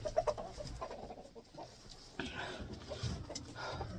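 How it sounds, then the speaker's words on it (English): Chickens cluck and murmur nearby at low volume, a few sharper calls at the start, over quiet outdoor background. "The chickens are finally out."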